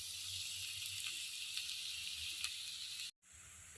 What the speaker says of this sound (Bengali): পেঁয়াজটা হালকা ভাজছি